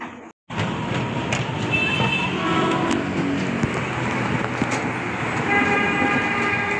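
A commuter train rolls into Tanjung Barat station with a loud, continuous near rumble and rail noise after a brief quiet start, with sustained tonal whines over the clatter.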